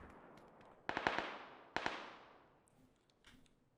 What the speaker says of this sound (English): Nades coming back out.